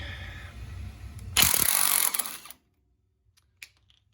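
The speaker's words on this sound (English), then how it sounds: "I got a 15/16 socket on my impact wrench" An impact wrench with a 15/16 socket loosening a front strut bolt on a 2002 Oldsmobile Bravada, a short loud burst of rattling hammering about a second long that cuts off to near silence with a couple of faint clicks.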